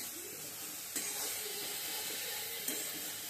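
Leafy greens frying in a pan with a little sugar: a steady broad sizzling hiss, punctuated by two brief clanks from stirring.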